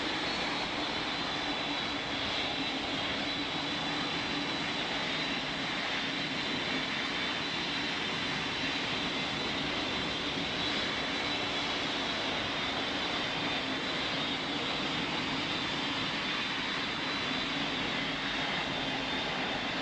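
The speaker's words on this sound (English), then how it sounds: "Delta 5825, I repeat, you're clear for immediate takeoff from runway 16." Jet airliner engines of a Delta flight roar steadily and loudly during takeoff from runway 16 in the Pilot Training Flight Simulator game, a continuous, unbroken broadband drone with no voices.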